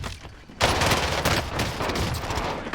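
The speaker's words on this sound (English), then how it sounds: "He shot me from the ladder." Dense rapid gunfire from an online shooter game erupts after a quiet moment, a continuous loud fusillade of shots filling the rest of the clip with no voices.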